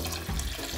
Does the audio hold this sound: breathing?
no